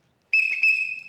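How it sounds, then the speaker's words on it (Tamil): A single sharp whistle blast, the kind blown as a signal to stop a bus, starts abruptly after a moment of silence and holds a steady, piercing tone with a slight warble for under a second. "விசில்லையே பல வகை உண்டு."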